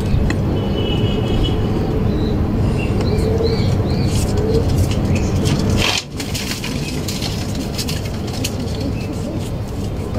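Pigeons in a loft coo faintly beneath a loud, steady rustling and crunching noise. A sharp knock breaks in midway, and no one speaks.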